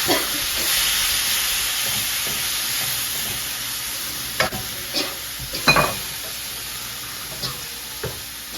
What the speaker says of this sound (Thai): แล้วผัดแป๊บนึง